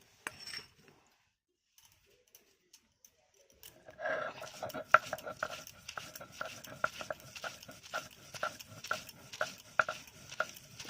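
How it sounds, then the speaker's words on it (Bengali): Fifty grams of fresh coriander leaves ground by hand for chutney, heard as quick, steady scraping and rubbing strokes that begin after a few near-silent seconds and keep a close, even rhythm. "এবার আমি ধনেপাতাটা বেটে নেব।"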